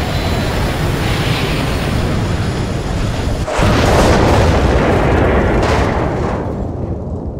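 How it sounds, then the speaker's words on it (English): Rocket boosters fire on a rocket in the video game I Expect You to Die: a loud, steady broadband roar that swells abruptly about halfway through and keeps rumbling until the end. "Deploying rocket boosters."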